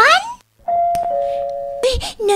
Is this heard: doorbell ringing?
yes